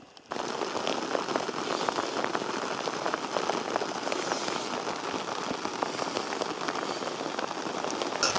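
Rain patters steadily on a camping tent in the Dolomites. After a brief quiet start, a dense, even hiss of drops holds close and constant throughout, with no talk.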